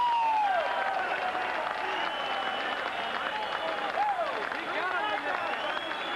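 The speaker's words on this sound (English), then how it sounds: "And the crowd reacts." A large boxing crowd roars with cheering and sustained applause after a Bobby Chacon vs Cornelius Boza Edwards bout, a dense continuous wash of noise with whistles and shouts mixed in.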